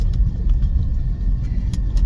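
A big truck rumbles past on a narrow single-lane road, a loud low-pitched engine roar close by that holds through the whole short moment, with no voices.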